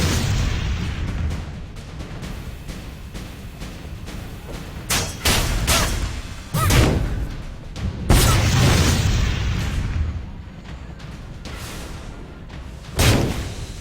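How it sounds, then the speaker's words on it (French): Explosions in the video game Blade and Soul: a string of heavy booms and sharp bursts punctuating dense, roaring game action, loud and close, with several strong blasts spaced across the stretch. "Il faut appuyer pour déclencher l'explosion."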